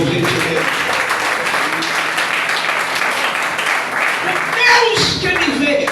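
A church congregation applauds during an evening doctrine service, steady dense clapping filling the whole stretch and swelling briefly near the end, with a voice speaking over it.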